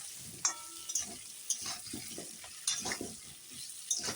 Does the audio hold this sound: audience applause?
no